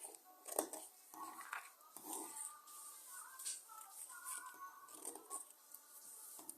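Scissors snip through dress fabric in a string of quiet, close, irregular cuts, soft rustling of the cloth between the snips.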